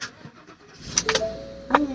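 Car engine cranking with a weird-feeling key, a few short bursts before it catches and starts, ending with a brief tonal chime; faint background sounds and handling noises around it.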